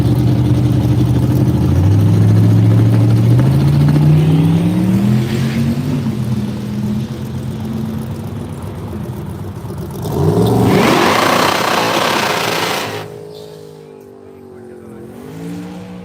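Drag racing at Woodburn Dragstrip: a Nova and a Mustang launch and roar down the strip, engines climbing through gear shifts in loud rising sweeps, then a second close pass before fading away.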